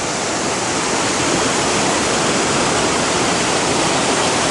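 Steady, loud rush of flowing water, the outlet stream of Bear Lake pouring continuously with no pauses and no voices.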